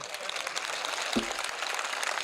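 Audience clapping at a political election rally in Amreli, a dense crowd applause spread evenly across the moment with a brief voice cutting through in the middle.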